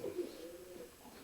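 Low, soft cooing from a nearby half Kumaro, half Norm Reed pigeon, a rolling murmur that carries steadily through the moment with no talk over it.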